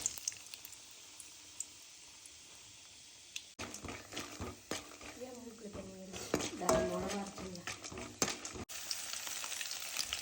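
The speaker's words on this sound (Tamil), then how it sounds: "ஒரு கைப்பிடி அளவுக்கு நிலக்கடலையை நல்லா செவக்கிற அளவுக்கு வறுத்துக்கணும்" Peanuts roasting in sesame oil in a kadai, a steady sizzle with stirring and scraping of metal against the pan, loud and close, mixed with clatter of utensils.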